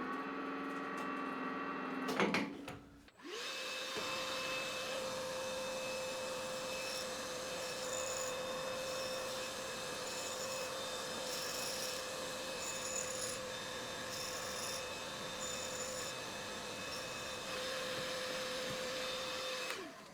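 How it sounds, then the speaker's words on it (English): A surface grinder wheel is dressed with a diamond held in a homemade chuck, the wheel's worn, out-of-round condition giving a steady whirring hum with a constant tone and an abrasive hiss. An abrupt startup sets it going, and it runs alone for the rest of the time. "I'll just dress this wheel because it looks pretty out of round and do a test grind"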